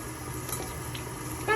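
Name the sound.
dusky conure parrot bathing in water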